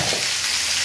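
Fish with turmeric, salt and spices frying in a pan, a steady close hiss and crackle of hot oil, dense and continuous, with no voices.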